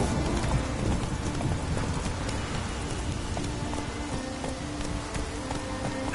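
A horse gallops in The Witcher 3 video game, its hooves making a quiet, continuous patter that blends with a rain-like wash throughout.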